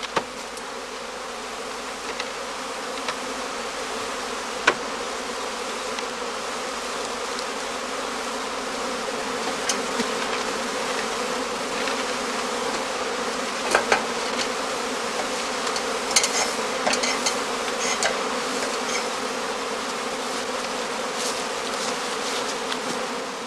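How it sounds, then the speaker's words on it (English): Honeybee swarms during swarming season at a heathland apiary in northern Lower Saxony, with filled catching skeps gathered nearby: a steady, dense buzzing drone throughout, close and continuous, with faint occasional clicks. "As more and more swarms are thrown off and collect under the branches and the eaves"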